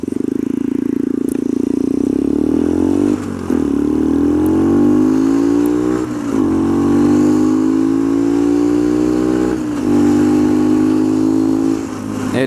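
A Skyteam PBR motorcycle with a carbon exhaust rides steadily, its engine droning loud and close with repeated rises in pitch as it revs through gears, with brief dips between shifts.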